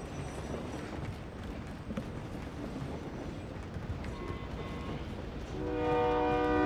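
Train in the Call of Duty Warzone video game rumbling steadily with a broad, continuous noise, swelling louder near the end as a sustained horn-like tone sounds over it.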